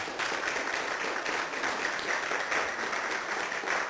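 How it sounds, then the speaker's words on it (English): A church congregation claps hands for the Lord in a steady, fairly quiet wash of applause that carries on evenly without breaks. "And give the Lord a hand clap."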